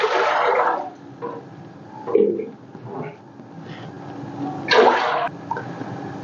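Water poured from a jug into a cooking pot for sugar syrup, a few close splashing bursts separated by brief pauses.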